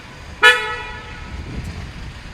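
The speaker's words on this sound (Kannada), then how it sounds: "ಹಾರ್ನ್ ಸಹ ಚೇಂಜ್ ಮಾಡಿದ." A single short, loud honk from the replacement horn on a new BMW sports car, with a bright harmonic tone that fades quickly into quiet outdoor background.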